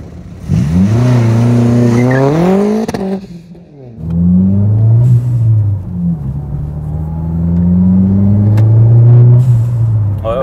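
A Ford Focus RS Mk1 engine revs loudly and repeatedly nearby, pitch climbing and falling in surges, with a short drop before revving up again.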